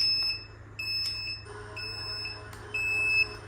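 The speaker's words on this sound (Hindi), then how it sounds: "और ये बीप देखो, बीच बीच में बीप करता है" An Urban Yog hair curler gives out a series of high, steady electronic beeps, several short tones and then a longer one, close and fairly clear over a low background hum.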